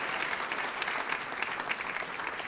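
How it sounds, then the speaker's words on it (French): A church congregation claps in sustained, dense applause that fills the space evenly, a steady wash of many hands without pauses. "Applaudissez-vous"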